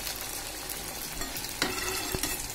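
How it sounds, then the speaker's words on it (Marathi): Bread chum chum frying in oil over a medium gas flame, giving a steady, close crackling sizzle with a few sharper pops near the end. "आपण गॅस मिडियम गॅसवर हे तळून घ्यायचं"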